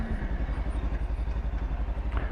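A Kawasaki Versys X 300 motorcycle with synthetic oil running close by, its engine chugging in a fast, even idle pulse with a light mechanical clatter on top.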